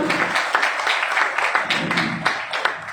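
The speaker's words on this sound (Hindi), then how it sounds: "तो मैं उन सभी मेंबर्स के लिए तालियां चाहूंगा।" An audience at a business event claps steadily for a few seconds, dense overlapping hand claps at moderate loudness with no talking over them.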